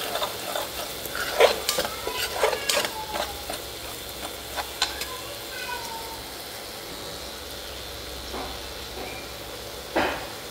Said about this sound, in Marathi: एकदम खमंग वास येईपर्यंत मी ते परतून घेतलं